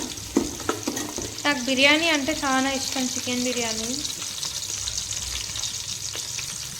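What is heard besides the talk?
frying ingredients in a pan for chicken biryani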